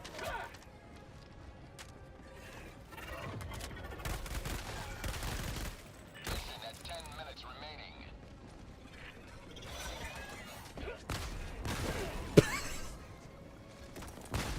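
Gunfire in Helldivers 2 comes in scattered bursts and heavy impacts, with crashes and mechanical clatter mixed in and a sharp crack near the end, moderately loud.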